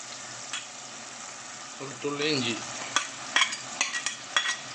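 Crab roast with tomato and coconut milk stirred in a pan, with a soft sizzle, a brief voice-like sound midway, then several distinct scraping stirs toward the end.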